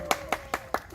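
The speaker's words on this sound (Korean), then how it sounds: "박수." Four crisp, evenly spaced hand claps at an outdoor eco-themed community theater performance at a small library, close and isolated, with a faint steady tone behind them.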